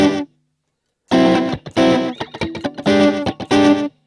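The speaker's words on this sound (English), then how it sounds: "now I've got a spring reverb" Distorted electric guitar through an amp simulator with spring reverb, played in short chopped chords and stabs that cut off sharply into silence, loud and close with no talking.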